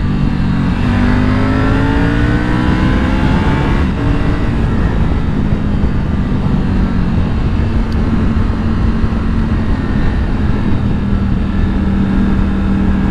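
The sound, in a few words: Yamaha Tracer 9 GT or Triumph Tiger 900 motorcycle engine revving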